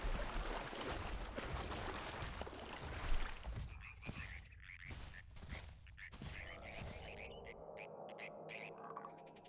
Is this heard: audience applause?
no